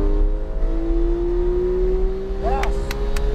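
A race car accelerates on the Palm Beach Speedway track, its engine note climbing steadily and loudly from close by, with a sharp whine and brief clicks near the end and no talk over it.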